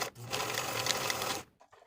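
A sewing machine runs steadily for about a second and a half, stitching the short edges of a fabric pouch with a 3/8 inch seam, then stops abruptly; close and fairly quiet, with no talking.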